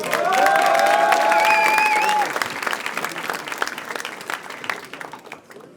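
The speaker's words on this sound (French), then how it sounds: "Et applaudissez pour de vrai, les gars." Rap battle audience at Rap Contenders bursts into loud applause and cheering, with whoops over the clapping at first, then thinning into scattered claps as it fades.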